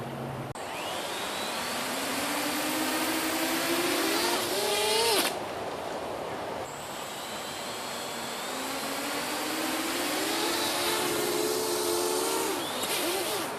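Electric motors on an RC aircraft whine steadily at close range, their pitch rising and falling as they rev, with a sudden cutout midway before the whirring resumes and climbs again.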